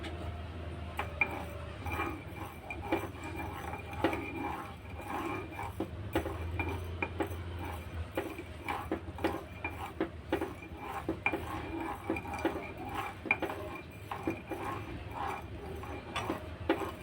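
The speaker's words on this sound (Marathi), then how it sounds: "साखर घातली आहे, ती पण आता चांगली ढवळून घेऊया।" A spoon stirs sugar into milk in a metal pot, with faint, irregular scraping clinks against the pot throughout and a soft low hum behind.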